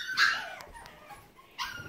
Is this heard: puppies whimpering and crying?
yes